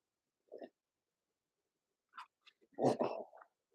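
A short low burp-like gulp, then after a pause a louder, longer belch with a few small clicks before it, close and otherwise quiet.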